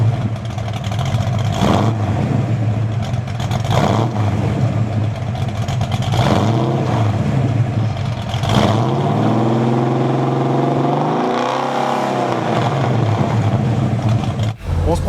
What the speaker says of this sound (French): on écoute le son du V8.